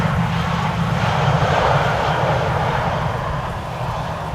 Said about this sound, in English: We will be in time for an Embraer 175 arriving from Hamburg.